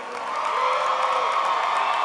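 Graduation crowd at a college ceremony cheering and applauding its new graduates, a dense steady wash of clapping and whoops that swells slightly and holds loud throughout.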